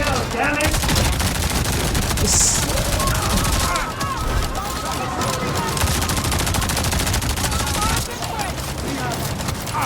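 Dense, continuous gunfire from the video game Avatar Frontiers of Pandora, rapid loud volleys and explosions filling the whole stretch with only brief lulls, mixed with faint game voices underneath.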